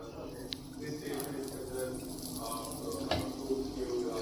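An aloo paratha roasts in oil on a hot pan, giving a soft, steady sizzle with a few faint clicks, heard under a person talking.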